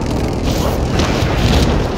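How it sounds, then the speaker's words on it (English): A precision airstrike detonates in Call of Duty: Warzone, a loud, close, sustained rumbling boom that fills the whole moment. "Enemy precision airstrike, take cover!"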